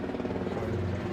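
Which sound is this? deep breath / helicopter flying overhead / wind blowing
helicopter flying overhead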